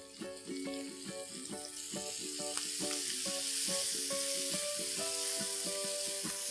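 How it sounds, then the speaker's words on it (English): Chopped cabbage added to capsicums frying on a tawa for Jain pulao, a steady, close sizzle that grows louder and hissier as it goes, with tuneful background music playing underneath. "quickly I'm going to add in 1½ cup of chopped cabbage"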